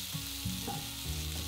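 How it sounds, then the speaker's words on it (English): Thickly sliced onion hitting foaming butter and oil in a frying pan, a soft, steady sizzle with faint crackles, quiet and close, no voices. "Then we're going to add in a thickly sliced onion."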